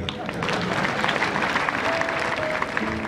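Audience applause at a bishop's installation ceremony of the Anglican diocese of Shyogwe, Rwanda: a continuous wash of many hands clapping, fairly loud, with voices and a little background talk mixed in.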